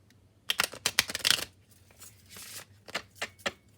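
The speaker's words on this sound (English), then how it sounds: "I'm going to do a couple of hard shuffles on the table." Tarot cards riffle-shuffled hard in sharp bursts, several quick flutters and snaps on a tabletop, close up; a small deck.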